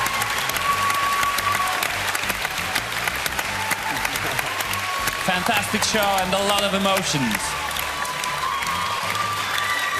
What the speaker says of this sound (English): Ladies and gentlemen, big applause!